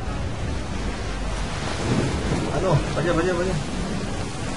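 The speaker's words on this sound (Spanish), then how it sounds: "Tenemos que subir en plena lluvia" Heavy rain in Assassin's Creed 3: a dense, steady hiss of downpour with low rumbling, running throughout while someone speaks briefly over it.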